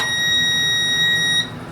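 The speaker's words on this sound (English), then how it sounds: "I can also tell it if I want tone when the timer goes off" A darkroom timer gives off a steady, piercing electronic alarm tone that holds close and loud for over a second before cutting off abruptly.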